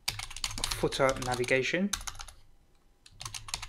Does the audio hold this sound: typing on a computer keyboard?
yes